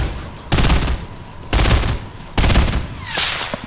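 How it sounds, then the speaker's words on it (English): Three loud bursts of automatic assault rifle fire in a solo battle-royale video game, each lasting about a second and separated by short pauses, with a fainter fourth burst trailing at the end. "shoot your gun. Your AR."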